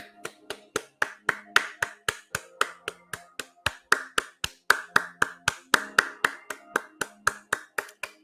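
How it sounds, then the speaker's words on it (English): One person claps hands close to the mic in a steady, even rhythm, roughly four sharp claps each second repeating for several seconds, with nothing else heard. "Let me take a moment to applaud Castano."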